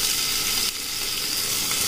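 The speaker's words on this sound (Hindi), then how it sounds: "ये प्याज एंड मिर्च जा रहा है" Onion and chilli sizzle in hot oil in a cooker, a loud, steady hiss and crackle that briefly softens partway through, with no talk.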